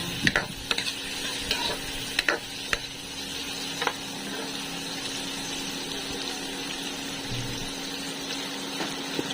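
Tofu and bean sprouts get stirred in a frying pan with a utensil, giving a steady low sizzle with scattered scraping clinks near the start, heard up close and without speech.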